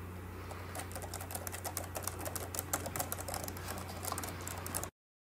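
Typing on a Logitech ERGO K860 quiet ergonomic keyboard: a steady run of soft, close keystrokes over a low hum, continuing for about five seconds and then cutting to silence.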